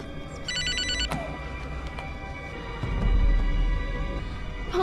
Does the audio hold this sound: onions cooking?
no